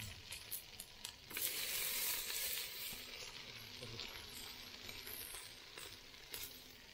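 Onion frying for masala on a wood-fired chulha, a loud close hiss and crackle of sizzling oil with occasional stirring clatter, steady throughout with a faint voice in the background.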